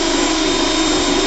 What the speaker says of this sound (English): All right, now let me get the drill.